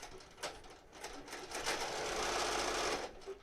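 An embroidery machine stitches in the hoop with a continuous mechanical chatter, building from intermittent clicks into a steady rapid run before easing off near the end.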